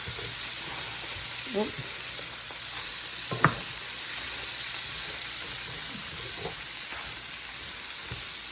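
Cabbage and kielbasa frying in a pan, keto-style, give a steady loud sizzle and hiss throughout, with a few stirring clinks and scrapes, and a brief voice cuts in once.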